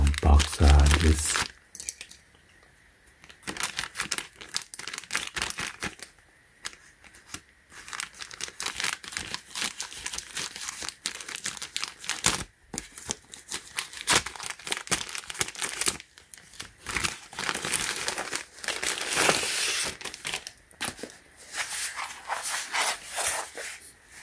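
Cardboard and plastic packaging of a replacement MacBook Pro 13-inch laptop battery crinkles and tears in close, intermittent bursts, with quiet gaps between handling sounds.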